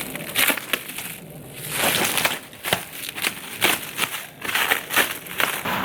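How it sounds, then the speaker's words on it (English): Packaging on a Blackstone air fryer combo base being unwrapped, a close crinkling and crunching of plastic and cardboard in repeated bursts with short pauses. "And now I can unwrap the base."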